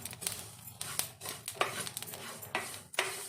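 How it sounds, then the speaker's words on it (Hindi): Cumin seeds crackle as they dry roast in a pan, with quick scattered pops and crisp scraping stirs at a close, soft level. "देखुथिबे टिके टिके क्रैक साउंड आसुची"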